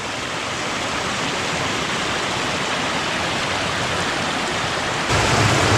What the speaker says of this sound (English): Unfortunately, it's starting to rain, but I will be sticking it out.